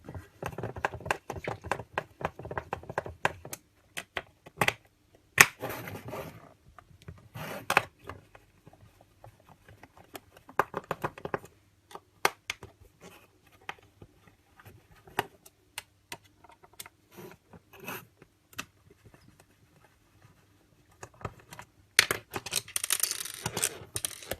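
Clicks, taps and small rattles come from the plastic casing of a waterproof Farr DMC05 manual call point as it is handled and opened, sharp close knocks scattered irregularly between quiet gaps.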